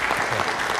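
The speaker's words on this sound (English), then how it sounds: "Let's give Keith a round of applause" A short burst of applause from an audience at a city council meeting, honoring a council member, with dense clapping that lasts under a second.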